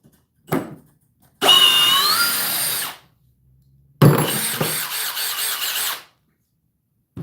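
Cordless hammer drill under test against rival models from Milwaukee, Dewalt and Flex, a short blip and then two loud whirring bursts of about one and a half to two seconds each with rising whine, separated by pauses.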